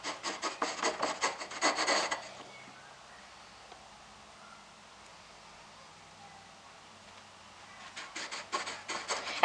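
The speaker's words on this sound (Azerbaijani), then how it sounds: "Yuxa açdıqdan sonra stəkanla kəsirəm." A glass cuts through dough rolled about 1 mm thin, giving rhythmic scraping and rubbing strokes in two clusters at the start and end with a quiet pause between them.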